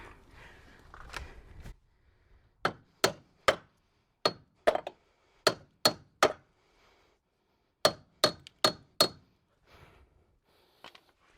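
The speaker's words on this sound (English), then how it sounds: "just get a big hammer and just give them a bit of a tap to bring them forwards" Sharp metallic hammer taps on corroded engine parts of a Mini Cooper S ring out one by one, in irregular bursts of two to four, with short pauses and a quiet background.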